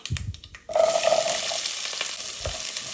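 Bitter gourd with mustard seeds, fenugreek and three dried red chillies dropped into hot oil in a pan, bursting into a loud, steady sizzle that continues after a few quieter stirring noises at the start.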